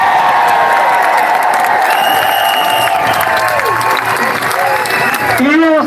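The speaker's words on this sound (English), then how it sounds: "Give her a big round of applause." A protest crowd at a Trafalgar Square lockdown rally gives loud sustained applause and cheering over a PA system, with tonal whistles and whoops rising above the clapping and voices mixed in throughout.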